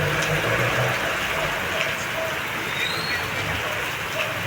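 Steady rain falls continuously outdoors during a rainy-day storm, a dense close hiss of drops on surfaces holding even throughout with a faint low rumble beneath.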